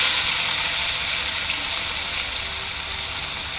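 Taro stolons fry in a little hot oil in a pan, giving a loud, steady, close hiss and sizzle that fades only slightly and carries no voices.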